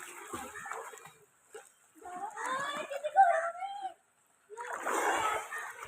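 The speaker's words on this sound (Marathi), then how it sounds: "पाणी करू उडव." People play in a deep pond, throwing and kicking water in bursts of close, loud splashing separated by short quiet gaps, with voices calling and shouting over the splashes.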